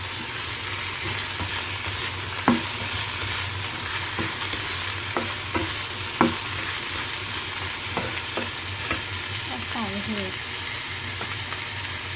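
Cabbage stir-fried with fresh fried garlic in a hot pan, a steady sizzle and broadband hiss with repeated clinks and scrapes of a spatula stirring, close and fairly loud with no talking.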